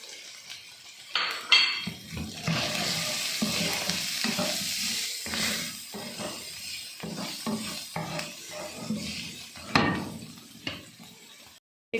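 Ginger garlic paste and masala go into a hot pan of macaroni, giving loud bursts of sizzling with spoon scrapes and clinks against the pan, close and continuous with short pauses.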